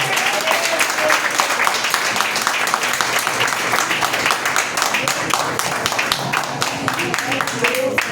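A church congregation applauds during an evening service, a loud, sustained wash of clapping with sharp individual claps standing out throughout.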